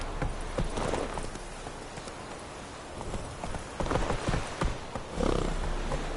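Hooves of the horse Roach clatter in a quick, uneven rhythm as it gallops in a video game, with occasional snorts over a dense rumble of game sound.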